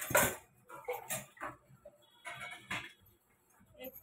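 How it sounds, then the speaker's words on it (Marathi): A metal kadhai (wok) is set down on a gas stove, producing several sharp clanks and clatters of metal on the burner grate, with short quiet gaps between knocks. "आता सुरुवातीला आपण गॅस लावायचा, कढई ठेवायची"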